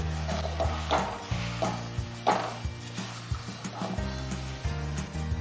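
A sesame and jaggery mixture for ladoo being mixed in a pan off the heat: repeated scraping and knocking strokes of a spoon against the vessel, close and irregular, over a quiet background with no talking.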